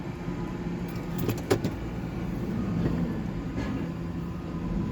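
A three-wheeled vehicle drives past on a street, its engine a low rumbling drone that swells slightly and then holds, with brief metallic clinks rattling early on and no talk.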